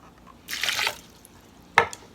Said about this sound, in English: Second thing we're going to do is put in a half a cup of water.